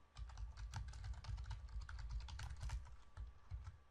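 Typing code on a computer keyboard, a steady run of close, crisp key clicks with no talking.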